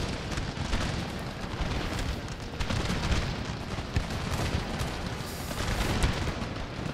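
Massed musket volleys from a Napoleonic-era battle in the Darthmod Empire game, a continuous dense roar of overlapping shots and booms that swells steadily, with no voices.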